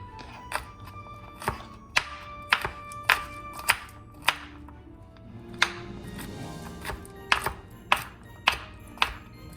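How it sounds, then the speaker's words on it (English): Knife rough-chopping about eight to ten garlic cloves on a board, a run of sharp, fairly regular close taps and thunks, with no talk. "Let's give that a rough chop"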